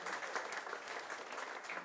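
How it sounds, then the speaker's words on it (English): An audience at a panel discussion on junk-free June gives a round of applause, steady and dense clapping at moderate distance that fills the whole moment without voices. "round of applause for Barney."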